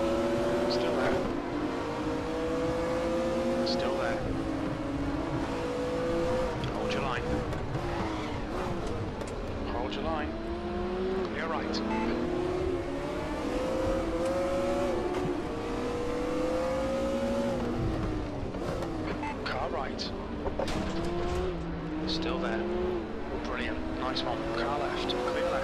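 A Nissan classic touring car in RaceRoom at Mantorp Park, engine revving loudly with repeated rising and falling gear-change sweeps as cars race close by, with a voice talking over the engine noise.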